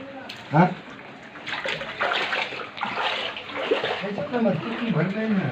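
Floodwater flows steadily in the background while several people talk over it, voices close and overlapping throughout.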